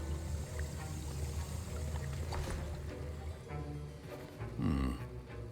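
Potion stirring in Hogwarts Legacy, a faint liquid swirl and bubbling slosh that runs quietly throughout, swelling into a brief louder gurgle near the end.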